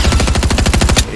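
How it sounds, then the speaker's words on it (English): Rapid automatic gunfire in the Fortnite video game: a loud, close burst of about a dozen evenly spaced shots lasting about a second, with no talk over it. "I'm getting shot at."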